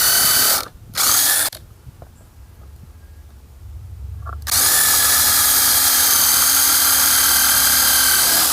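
A power drill driving a screw into wood, whirring loudly in short bursts, then stopping for a few seconds before a long sustained run.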